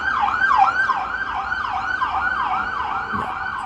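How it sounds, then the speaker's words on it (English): An ambulance siren wailing in a steady, repeating up-and-down cycle, loud and fairly close, with faint road noise underneath. "Ambulance."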